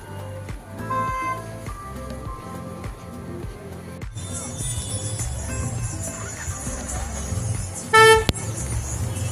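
Busy traffic at the Rajapur bus stand in Konkan, with engines running and several car and bus horns tooting, including a sharp loud blast near the end.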